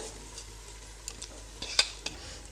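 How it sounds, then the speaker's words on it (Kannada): Basmati rice being tipped into a paneer masala for biryani and stirred. A low, steady background runs under scattered light scrapes and clinks of a spoon against the pot, with one sharper clink near the end. No one speaks. "ಇವಾಗ ನಾನಿಲ್ಲಿ ಅಕ್ಕಿನ ಹಾಕ್ಕೊಳ್ತಾ ಇದ್ದೀನಿ ನಾನಿಲ್ಲಿ ಬಾಸುಮತಿ ಅಕ್ಕಿನ ಯೂಸ್ ಮಾಡಿದ್ದೀನಿ"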